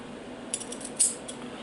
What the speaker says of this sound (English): So I will cut it.